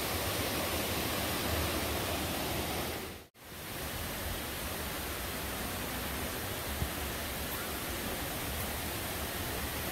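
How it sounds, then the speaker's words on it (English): A waterfall pours steadily into a small pool at Edén in Mismaloya near Puerto Vallarta, Mexico, making a loud, broadband, continuous roar that cuts off for an instant near the third second and then returns unchanged. "Nice little pool right here underneath the waterfall."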